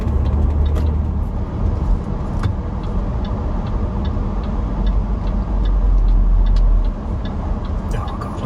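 A 2012 Land Rover Discovery 4 HSE drives along with a steady low engine and road rumble heard from inside the cabin, joined by faint ticking and a few brief swells.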